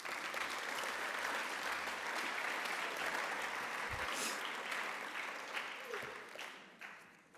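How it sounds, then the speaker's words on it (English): Sustained applause from an audience at a cadet speech competition fills the clip, steady and dense, tapering off toward the end. "Please give them a round of applause."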